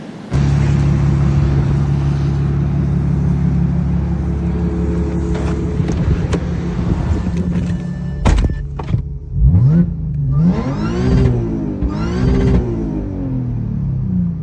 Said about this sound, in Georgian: ხო, მოკლედ ამუშავდა, ძრავიც მუშაობს